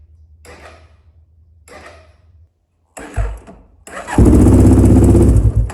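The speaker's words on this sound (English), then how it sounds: "now I'm just gonna bump the starter until the pressure comes up off the valve" A 2007 Honda 400EX ATV engine is cranked in short bursts on the starter: two brief whirs, then a stronger turnover and a sustained loud cranking run, all up close.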